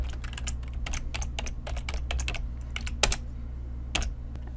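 Quick typing on a computer keyboard, close and crisp, with irregular bursts of key clicks and a few heavier strokes like the space or enter key over a steady low hum, no talk.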